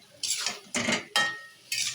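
A spoon scrapes and knocks against a pan while soybean and potato curry is stirred and fried, in four distinct bursts separated by short pauses.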